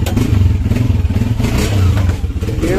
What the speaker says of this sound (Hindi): बाइक को स्टार्ट कर ले।